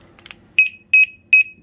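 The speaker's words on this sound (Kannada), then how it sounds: "3 ಬೀಪ್ ಬಂತ. ಸೊ ಅಲಾರಾಮ್ ಎಂಗೇಜ್ ಅಂದರೆ ಎನೇಬಲ್ ಆಗಿದೆ ಅಂತ." An alarm lock gives three sharp electronic beeps when its alarm is enabled, each short, loud and evenly spaced, right after a faint clicking rattle.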